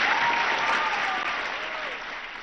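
A packed school hall audience at Western Springs College applauds to welcome Jacinda Ardern, a steady, full round of clapping that tapers slightly toward the end, with no speech over it.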